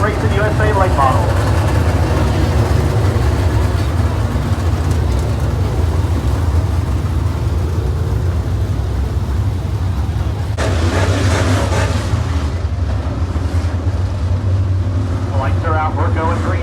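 Late model race cars run at Boothill Speedway in a 20-lap race, their engines forming a loud, continuous roar. A track announcer talks over the engine noise, which shifts and swells near the end.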